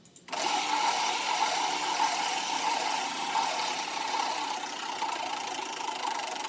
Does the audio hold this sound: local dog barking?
no